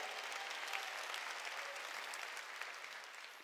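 A church congregation claps through a sermon, a steady wash of applause that holds evenly from start to finish and stays fairly quiet and slightly distant.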